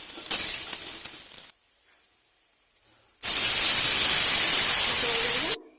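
Water poured into a hot pan for Maggi noodles: a brief noisy burst, then a pause, then a loud, close, sustained hiss of steam for about two seconds that stops abruptly.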